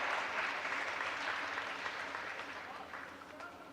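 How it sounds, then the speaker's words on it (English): Steady applause from a high school basketball crowd honoring senior players fills the whole stretch, loud at first and easing slightly toward the end. "Let's have a round of applause for our 24-25 girls basketball seniors"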